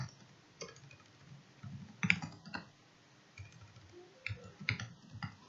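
Typing on a computer keyboard while working in Microsoft Word, soft irregular key clicks in short clusters with pauses, fairly quiet and close, no talking.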